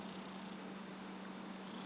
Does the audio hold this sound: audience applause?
no